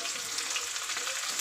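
Capsicum sizzles in hot oil in a wok, a loud, steady, close-up frying hiss that holds without a break.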